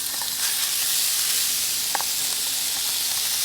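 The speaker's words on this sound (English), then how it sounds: "Now we're gonna add our bacon." Bacon sizzling in melted butter in a cast iron pan, a close, steady crackling hiss with occasional pops.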